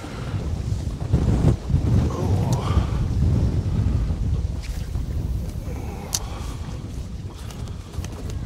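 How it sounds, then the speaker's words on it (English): Strong wind blowing on a lake bank during fishing, a loud continuous rumbling roar buffeting the microphone throughout with a few faint higher clicks. "Fighting the wind here."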